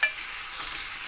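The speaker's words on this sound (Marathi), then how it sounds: "हा कांदा आपल्याला तेलामध्ये पूर्ण ब्राऊन होईपर्यंत परतू द्यायचा." Onion frying in hot oil hisses and sizzles steadily and close up, with faint stirring scrapes and no talk.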